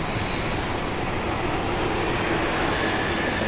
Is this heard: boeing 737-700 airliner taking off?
yes